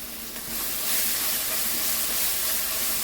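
Ground ginger-garlic paste dropped into hot oil for a spicy chicken curry, a sudden broad hiss that settles into a steady, close sizzle with no talking.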